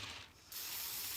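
Spray can releasing glitter paint onto a tumbler in a steady hiss, with a brief lull before the spray picks up again and holds loud and close.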